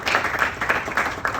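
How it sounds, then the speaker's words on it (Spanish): Congregation applause at a church service, a short burst of steady clapping filling the space at moderate loudness with faint voices mixed in. "Si le gustó esto, denle un aplauso al Señor."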